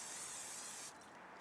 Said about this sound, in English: Add a little of the nonstick spray on the bottom.